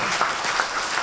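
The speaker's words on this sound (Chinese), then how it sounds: "我们再给一点掌声给他好不好" Audience applause for a professor after a lecture, a brief, steady burst of many hands clapping in a hall, even and moderately loud with no talk.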